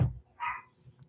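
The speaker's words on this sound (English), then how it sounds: "Even you can hear my dog barking." A single dog bark sounds at moderate level, a short isolated yelp with a faint follow-up, heard indoors with no talking over it.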